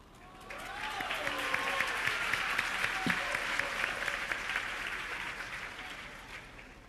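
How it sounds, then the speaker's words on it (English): An audience applauds Madeline, an in-house HR specialist and TV presenter, at a youth event; steady clapping from a large crowd swells in, holds for several seconds, then begins to fade. "you clap more for Madeline than for Dr. Jerry Kule"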